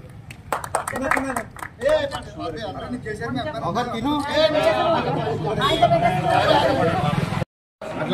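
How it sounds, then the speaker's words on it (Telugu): Crowd clapping at a BRS party office during a birthday celebration for former Chief Minister KCR in Khed, bursts of claps early, then dense crowd chatter and talking that fill the rest of the stretch. "కొట్టండి చప్పట్లు."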